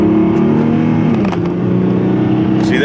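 A car with a loose front end and a hard-shifting transmission accelerates smoothly on a test drive, its engine droning loud and steady throughout with a slight pitch shift midway.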